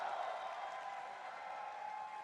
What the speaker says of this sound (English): Applause is in order.